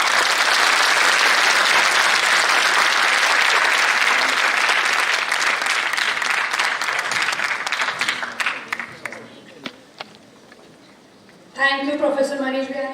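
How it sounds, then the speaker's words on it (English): Audience applause opens the 19th Indo-Japan International Conference, a loud dense roar of clapping that thins into scattered individual claps and fades before a voice speaks near the end. "let me join with the clap."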